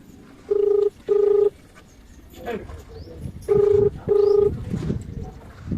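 Phone keypad tones dial a call to a friend: two pairs of short, loud, steady beeps separated by a pause, with faint background noise and muffled activity between them.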